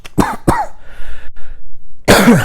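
Two sharp coughs close together, followed by a short stretch of quieter breathy sound and then another harsh cough burst at the end.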